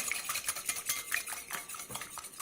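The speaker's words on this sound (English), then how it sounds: "And then we're going to go ahead and mix this up. Break up that egg really good." An egg beaten in a separate bowl for skillet cornbread, with a utensil making rapid, rhythmic close-up clicks and scrapes against the bowl, no talking.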